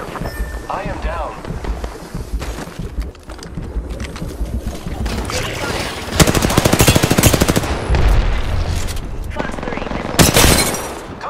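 Dense automatic gunfire and bursts of shots in the battle royale game Apex Legends, loud and continuous, with heavier volleys toward the end, layered under game sound effects and a calm voice reading out callouts.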